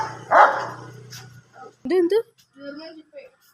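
A pet dog barks and yips a few times nearby at a house in the evening, interspersed with brief moments of talking.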